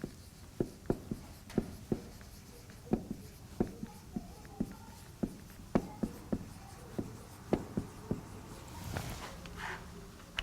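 Chalk tapping and scraping across a classroom board during a French logic lecture, a steady run of sharp, close clicks and short strokes at an irregular rhythm, with a faint breathy rustle near the end.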